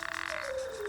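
A short, faint trilling croak from a male toad, a rapid pulsing call followed by a slightly falling tone, heard alone.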